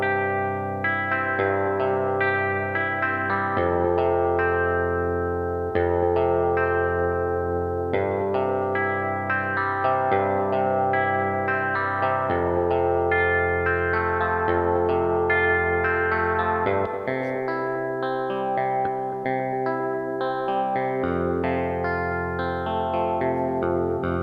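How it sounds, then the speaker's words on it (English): Layered, shimmering synthetic guitar tones play a continuous melodic passage with chorus-like effects, steady and loud throughout with no talking. "So just some interesting guitar type sounds for that."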